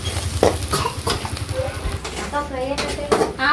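Fried chili masala being mixed into cooked rice in a pan, with steady scraping and stirring strokes and a faint sizzle, a voice talking over the clatter throughout.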